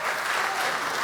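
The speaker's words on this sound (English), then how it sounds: "Applause already." A community meeting audience breaks into brief, steady applause, a short burst of many hands clapping at even loudness with no voices over it.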